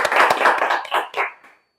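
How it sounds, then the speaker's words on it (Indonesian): A small group claps during a casual hosted talk session, with distinct, close hand claps in uneven bursts that thin out and stop, followed by silence. "Tepuk tangan dong."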